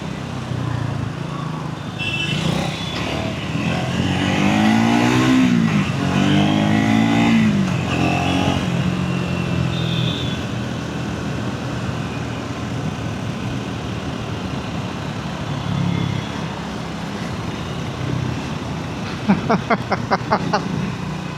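A Triumph Speed 400 motorcycle engine on a test ride, revving up through rising pitch sweeps as the gears shift, then settling into a steady cruise drone, with wind rush throughout.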